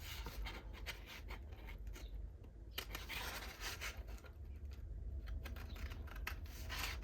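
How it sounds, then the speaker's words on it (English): Scissors cut through paper labels, with a string of quiet close snips and rustling paper sliding in an irregular rhythm, and no speech. "I have a hard time cutting round labels out"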